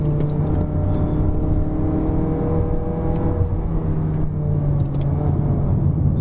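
A 2019 Mazda3 1.5-litre liftback driving fast up the Genting hillclimb, heard from inside the cabin, gives a steady loud engine drone with a constant low hum and tyre and road rumble throughout, with no talking.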